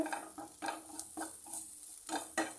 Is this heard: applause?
no